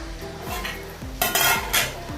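A metal lid clatters off a pan and a spoon scrapes and stirs beetroot thoran in a Kerala kitchen, with several clear clinks and scrapes up close and a low steady cooking hiss beneath.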